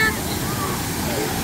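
Steady rushing water roars continuously from a roughly 6-metre waterfall into a deep valley pool, a broad dense wash with no breaks.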